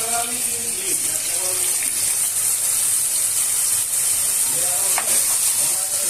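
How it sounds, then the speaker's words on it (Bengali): Chicken pieces are broken up and fried with onion in a wok with little oil for a spicy Bengali-style chicken curry, giving a steady close sizzle with scraping stirs throughout, and no voice over it. "এখন মাংসটা আমি ভেঙে দিচ্ছি"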